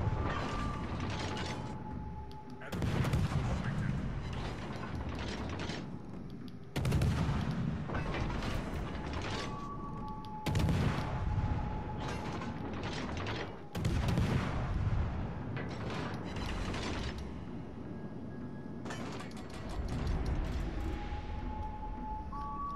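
Enemy warship guns fire in a World of Warships naval battle, heavy booming salvos arriving in spaced bursts with creaking, ratcheting mechanical sounds between them.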